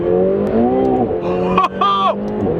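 A McLaren 720S supercar accelerating from inside the cabin, its engine note climbing and shifting through rising tones with brief gear changes, loud and close, with a voice talking over it.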